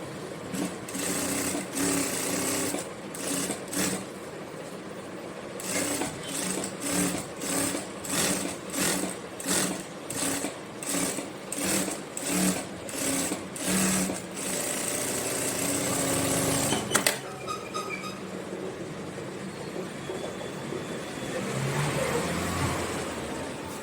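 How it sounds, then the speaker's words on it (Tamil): Sewing machine running single-needle stitches along a blouse lining, a loud, steady mechanical whir broken into rapid rhythmic bursts of stitching, then running continuously before easing off, with no talking. "லைனிங் மேலே வந்து ஒரு ஒத்த ஊசி தையல் போட்டுக்கணும்"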